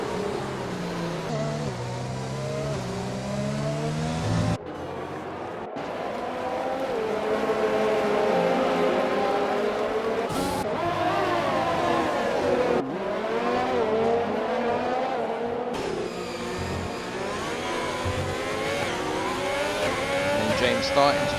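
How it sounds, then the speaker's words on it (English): Race cars roar along the main straight during a Spanish Grand Prix race in a Formula-style racing video game, engines loud and continuous with rising revs, under a commentator's steady talk. "As we come down the main straight, here comes the Scuderia Ferrari of Shrimper."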